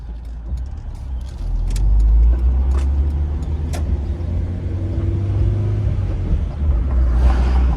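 A car drives around a park in East Camden, New Jersey, its engine rumbling low and steady throughout with tyre and road noise, close and continuous, with no talking.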